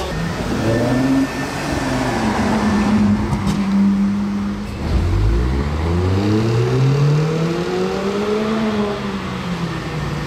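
A red Ferrari 812 GTS driving past on a road, its engine swelling loudly as it approaches and then sweeping down in pitch as it passes close by, with another vehicle's rumble following.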